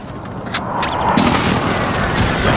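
Airstrike explosions in the Warzone Rebirth video game, a loud continuous rumble of heavy booms and blasts rolling over each other with sharp cracks near the start.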